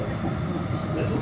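A Blackpool tram running between Starr Gate and Fleetwood gives off a steady low rumble and rolling rail noise from inside the car, continuous and fairly loud, with a voice faintly mixed in.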